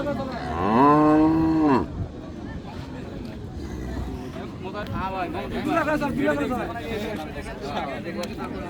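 Cattle at Raniganj livestock market among Friesian cows and calves: one loud, long, near moo opens, then a crowd chatters and people talk nearby.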